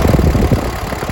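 A Kubota L4508 tractor, a 2009 model, with its diesel engine running steadily at a low rumbling idle, close by and continuous with no speech.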